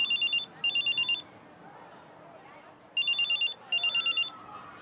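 A phone rings in two pairs of bright electronic trilling bursts separated by a quiet pause, clear and close over a low background hum.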